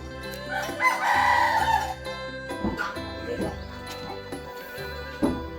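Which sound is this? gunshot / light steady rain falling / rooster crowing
rooster crowing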